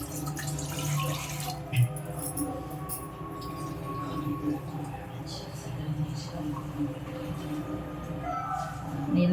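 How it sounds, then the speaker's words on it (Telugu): Water pours steadily into a pot on a lit stove while a ragi porridge is being made, a continuous near splashing wash lasting several seconds under a faint background hum. "ఫస్ట్ నీళ్లు పోసేసుకుందాం"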